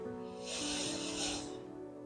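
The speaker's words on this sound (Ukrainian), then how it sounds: "Розслабились, якщо треба, можна зробити шумний видих." A long, noisy breath out through the mouth during a morning stretching routine swells and fades over about two seconds with a soft hiss; close and moderately loud, with no speech.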